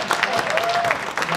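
Crowd clapping for a team at a photography shoot-out judging event, brief and fairly loud, with a voice and a sliding tonal sound mixed in.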